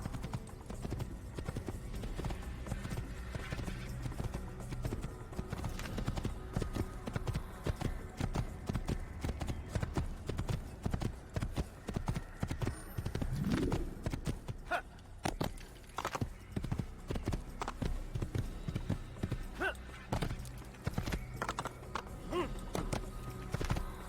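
Horse hooves clip-clop in a steady, continuous rhythm throughout, loud and close, from a ridden horse in the video game Assassin's Creed on Xbox One X, with a brief whinny partway through.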